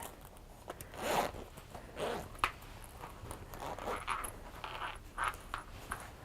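A zipper on a small fabric zip-pull case is drawn back and forth in short, quiet rasping strokes, close up, repeating irregularly against a soft background hiss.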